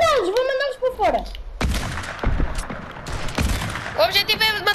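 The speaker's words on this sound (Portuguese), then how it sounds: "Que tiro!" Gunfire in a video game comes as loud, sharp bursts between excited shouting voices, with several close shots in quick succession.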